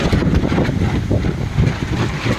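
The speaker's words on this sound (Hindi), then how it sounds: "तेज़ आंधी ने बहुत परेशान करा है, और अभी भी चली रही है" A strong windstorm gusts hard across a village, loud buffeting rumbles that swell and dip continuously as the wind hits close by.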